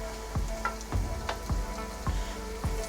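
Garlic and ginger frying with onions in a pan, a soft close sizzle broken by regular scraping stirs about every half second, no talking.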